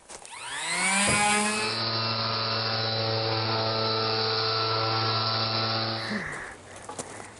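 A power saw cuts timberstone wall blocks on improvised sawhorses outdoors. The motor whines up to speed, holds a loud, steady, close grinding cut for about five seconds, then winds down, with no talk.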